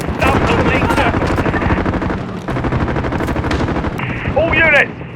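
Sustained automatic gunfire in a Modern Warfare match in Piccadilly, loud and dense throughout, with radio chatter and voices under the shooting.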